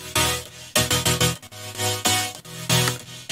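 A bright supersaw lead built in the Serum synth plays loud chopped chords in rhythmic pulses with a thick low end, alone with no talking.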